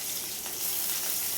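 Split green chilies, white sesame seeds and chopped curry leaves sizzle in hot oil as a tempering for a flattened-rice dhokla, a steady close crackling hiss throughout.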